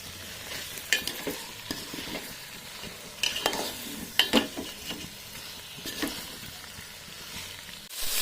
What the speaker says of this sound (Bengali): এবার সব কিছু একসঙ্গে ভালো করে কষিয়ে নেব